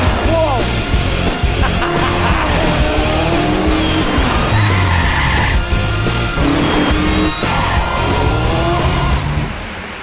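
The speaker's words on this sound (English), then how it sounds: "I'm pretty much certain that you can outrun anything in this. It's the BMW M3." A BMW M3 races through the streets of Marrakech, its engine roaring close and loud with revving, shifting pitch and tire squeal, continuous throughout before easing slightly at the end.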